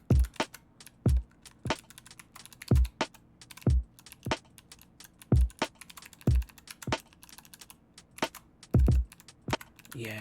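An m8 tracker drum beat with a heavily swung kick: punchy low kicks land in an uneven, lilting pattern with crisp clicky hits between them, dry and up front.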